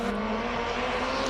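A Lotus race car runs on a hillclimb track, its engine a steady, sustained drone at moderate distance for a brief moment.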